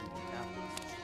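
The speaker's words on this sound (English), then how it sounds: "I think the horses are attacking me" Horse hooves clip-clopping in The Witcher 3 video game, a short, steady run of galloping under a dense game soundscape with a faint neigh-like tone.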